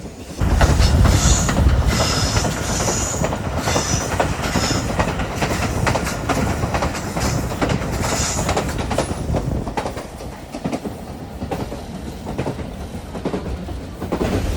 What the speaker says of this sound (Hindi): ट्रैक साउंड आप देखें कैसा चेंज हो गया है और ट्रेन की स्पीड भी अब बेहतर हो गई है।